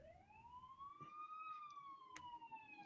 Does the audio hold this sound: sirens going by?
yes